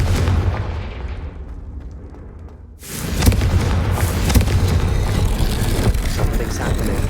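A heavy booming blast from the Confringo explosive spell in Hogwarts Legacy erupts after a quieter rumbling lead-in, followed by sustained loud crackling and rumbling.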